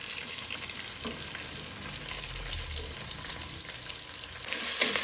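Onions fry in hot tempering oil for a potato and green pea curry, a dense, continuous sizzle and crackle heard close up with no talking, swelling slightly louder at the very end.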